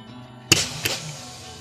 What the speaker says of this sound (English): That was the sound of the starter motor spinning.